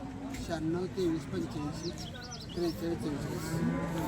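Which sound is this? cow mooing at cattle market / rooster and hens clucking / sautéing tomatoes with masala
cow mooing at cattle market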